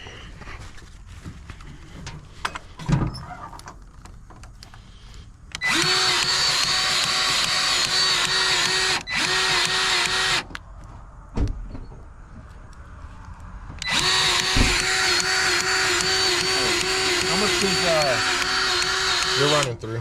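A dump trailer being greased with a powered grease gun: two long whining motor bursts of several seconds each and a shorter one between, with clanks, handling noises and a person talking around them.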